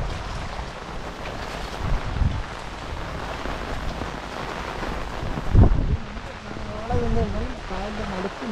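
Rain falls steadily around a boat travelling among mangroves in Kollam, Kerala, a broad hiss with a couple of louder splashes or bumps, while people talk over it.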